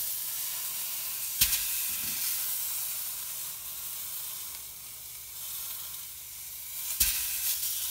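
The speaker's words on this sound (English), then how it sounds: "I'm also going to roll it up on its edges. Get a little crust there." Sous vide mock tender steak searing on its edges in a hot pan gives a steady, close broadband sizzle throughout, with two sharp clacks where the meat is moved or turned.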